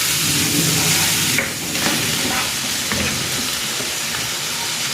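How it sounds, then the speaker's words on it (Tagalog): Tomatoes and onion sauté in a pan for pork kinamatis, making a loud, close sizzle with stirring scrapes and steam throughout, and no one talking. "And igigisa ko na rin dito itong kamatis."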